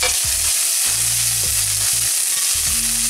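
Ginger paste and coriander paste frying in a pan, a loud steady sizzle throughout with stirring scrapes and low intermittent tones beneath, no voices.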